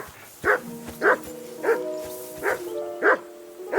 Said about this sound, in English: That barking was a pain in the arse.